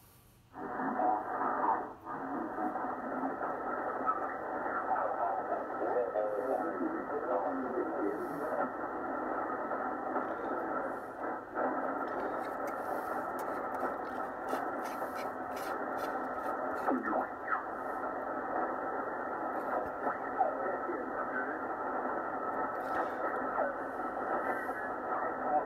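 A Drake TR4C radio tuned to the 40 meter band hisses with steady, loud static and crackling interference that runs unbroken for the whole stretch, with no talk over it.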